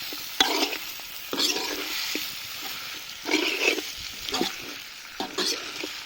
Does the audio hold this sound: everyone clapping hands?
no